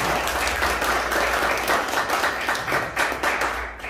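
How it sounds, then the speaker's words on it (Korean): Steady applause from an audience at a Busan citizens' rally in a hall, dense clapping sustained evenly throughout without speech. "참석하신 여러분 모두를 위하여 큰 박수 한번 부탁드리겠습니다"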